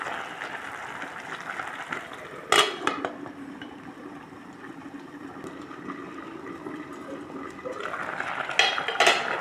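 A metal lid is set on a cooking pot of beef soup with cabbage and carrots, giving a sharp clank partway through and another rattle near the end. A low steady simmering hiss continues underneath.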